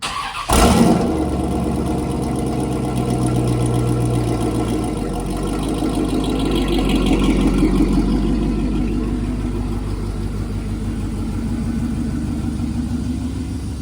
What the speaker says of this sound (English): We're gonna get her fired up, back it out,